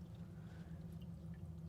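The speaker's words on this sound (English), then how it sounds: "I can hear a trickle." A small pump circulating water with a soft trickling pour, a low steady hum under faint continuous dripping flow, quiet and close, no talk.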